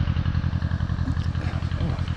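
An old-fashioned diesel engine, apparently driving a pump, thuds nearby in a steady, even rhythm of low pulses, with outdoor ambience behind it along a greenway.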